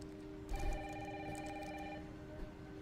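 An old-style telephone bell rings once in a single sustained burst inside a house in the game One Man's Poison, over a quiet backdrop of heavy rain.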